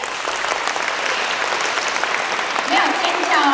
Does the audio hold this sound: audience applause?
yes